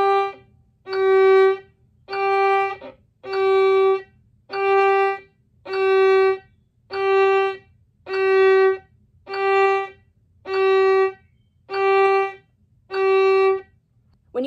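Twelve short, evenly spaced bowed notes on a string instrument sound one after another in a steady rhythm, each note detached and clear, played as a warm-up before vibrato practice.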